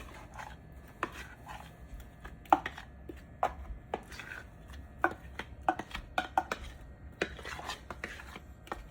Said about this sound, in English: I have a spoon, and I'm gonna scoop out the sauce